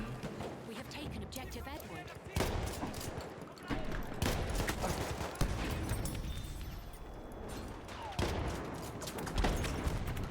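Gunfire in Battlefield 1 comes as sharp shots and bursts scattered through the clip, with a player talking over the game sounds.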